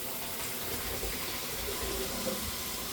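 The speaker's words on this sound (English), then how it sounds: "after I drain them, I'm just gonna rinse them in some cool water" Cool tap water runs steadily into a kitchen sink over drained boiled potatoes, a continuous soft splashing rush heard up close with no talking.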